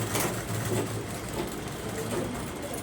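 A sewing machine runs steadily while stitching the neck of a blouse, a continuous close mechanical whir with a low hum and no pauses.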